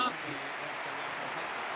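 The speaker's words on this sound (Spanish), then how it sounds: "Gracias, Bernabéu, por este aplauso merecido al abusador" Stadium crowd at the Bernabéu applauds Benzema's farewell during Real Madrid versus Athletic Club, a dense, steady wash of clapping and crowd roar with a voice underneath.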